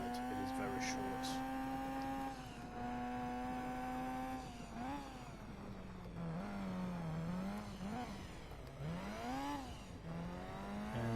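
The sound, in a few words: Toyota Celica engine racing in video game Gran Turismo 2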